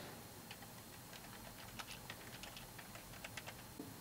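Search terms typed on a computer keyboard, a quiet, irregular patter of light key clicks in a faint room, no one talking.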